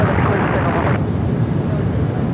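An airliner taking off at Los Angeles International Airport (LAX), a loud broad jet roar that is close and full, with the upper hiss cutting off after a second as the rumble continues, and speech-like sound mixed in.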